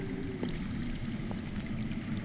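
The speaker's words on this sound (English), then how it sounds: "I hear water. From underground." Underground water flows in a Game of Thrones Telltale video game, a soft, steady trickling stream heard alone at low volume.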